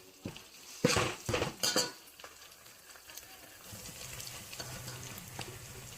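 Ginger-garlic paste and onions stirred in a pan for a Telangana-style desi chicken curry, with sharp metallic spoon scrapes and clanks early on, then a steady low sizzle of frying underneath.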